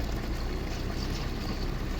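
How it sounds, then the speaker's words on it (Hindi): Hot spring water at Tatta Pani in Azad Kashmir flows down from its source in a steady, broadband rush, loud and close, with no speech. "ये ऊपर से चश्मा आ रहा है और नीचे तक पानी आ रहा है"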